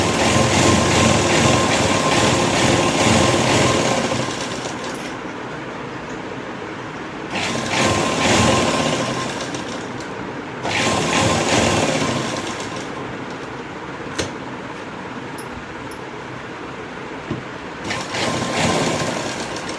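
A sewing machine stitches the seams of a kurti in loud, close runs of rapid mechanical chatter, with several short pauses and restarts between bursts and no talk.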